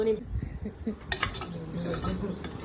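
Rice being stirred in oil in a pan, with irregular metallic clinks and scrapes of a spoon against the pan, close by, amid faint background voices.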